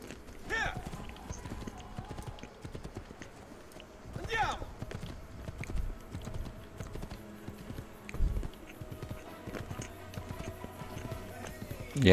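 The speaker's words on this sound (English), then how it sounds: "Our horsey running." Horse hooves galloping in the Assassin's Creed II video game, a quiet, steady run of clip-clop beats throughout with occasional louder thumps under low game ambience.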